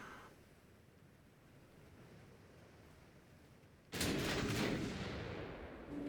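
Enemy warship guns open fire in a naval battle in the game Ultimate Admiral: Dreadnoughts, a sudden loud burst of heavy cannon blasts after a quiet stretch of low sea rumble, trailing into a long roar.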